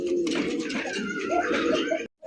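Lahori pigeons, a breeding pair, coo close by in a soft low rolling burble lasting about two seconds, with faint background murmur before it cuts off.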